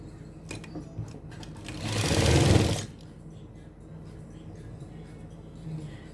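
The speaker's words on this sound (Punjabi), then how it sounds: "ਹਲਕੇ ਹੱਥਾਂ ਨਾਲ ਬਸ ਇੱਕ ਦੂਜੇ ਤੇ ਰੱਖ ਕੇ ਇਹਨੂੰ ਸਿਲਾਈ ਲਗਾ ਦੇਣੀ" A sewing machine stitches the sleeve of a suit in one steady burst of about a second, running close and fairly loud before stopping, with faint room noise around it.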